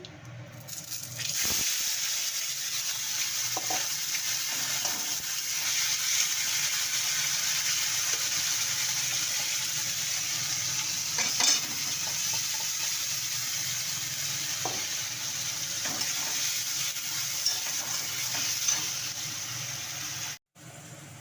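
Spice paste sizzles steadily in a hot pan as it fries for a snake gourd curry, with occasional stirring and scraping sounds over a continuous hiss and no talking.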